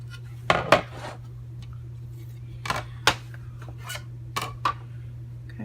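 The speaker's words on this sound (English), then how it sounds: "I'm going to grab the scissors again." Scissors make sharp snipping cuts through cardstock for a Stampin' Up! card, a few close, distinct clipped sounds in pairs against a steady low background hum.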